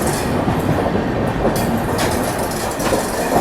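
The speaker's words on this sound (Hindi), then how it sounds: "IRCTC लखनऊ नई दिल्ली तेजस एक्सप्रेस, देश की सबसे पहली प्राइवेट ट्रेन थी" The IRCTC Lucknow–New Delhi Tejas Express, a private train in worn condition, rumbles along the tracks with steady clickety-clack and roaring rolling noise, loud and close, with no voices.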